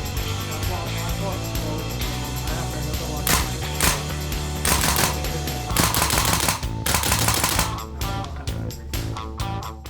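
Rapid gunfire from an M16 A3 rifle with a scope during a test shoot, dense bursts of sharp cracks running continuously, loudest in clustered volleys near the end, with a voice faintly underneath.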